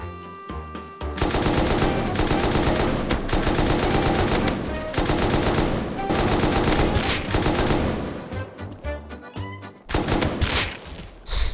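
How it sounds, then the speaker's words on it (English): Rapid automatic gunfire from a Rust-style shooter in Garry's Mod, loud sustained bursts of close shots broken by a few short pauses, with no talk over it. "Oh, he's shooting at me."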